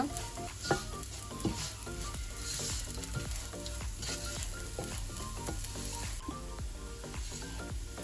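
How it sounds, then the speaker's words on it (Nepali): Rice fries and is stirred in a pot for goat pilau, a continuous loud sizzle with repeated scraping stirs and light clinks of the spoon against the pan, no talking. "पुलाउ एकदम राम्रो हुनको लागि चाहिँ चामल पनि राम्रोसँगले भुटेको हुनुपर्छ"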